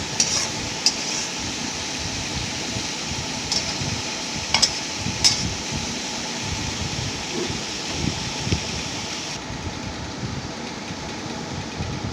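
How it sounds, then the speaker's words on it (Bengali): Vegetables and vegetable peels for a chorchori are stirred and mixed in a kadai, giving steady scraping and shuffling with occasional sharp clinks of the utensil against the pan. No one talks. "এবার পুরোটা ভালোভাবে মিশিয়ে নেওয়া হচ্ছে।"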